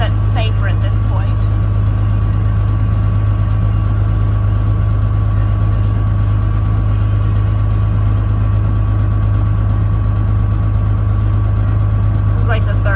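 A tractor's heavy diesel engine idles loudly and steadily from close by, a constant low rumble with a faint whine, and a few brief clinks at the start and end.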